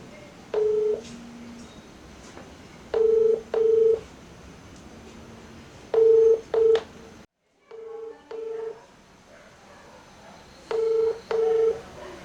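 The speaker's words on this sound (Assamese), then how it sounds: "তাক ফোন এটাকে লগাওঁ" Phone keypad dialing tones while calling someone, short bursts of paired electronic beeps in quick clusters separated by pauses, clear and close, with a brief dropout midway.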